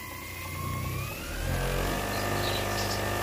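A car alternator run as an electric motor on 48/60 volts spins up from slow to fast, its steady whine climbing in pitch and growing louder before holding at a high, even hum.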